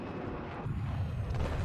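A destroyed stealth jet explodes in the Battlefield 4 video game, a deep, rumbling blast that swells after a moment and rolls on as a low, heavy boom without talk.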